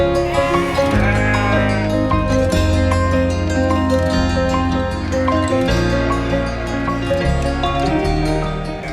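Goats bleating at a goat farm, a loud, continuous chorus of overlapping calls that fills the whole stretch with no pause and no talk.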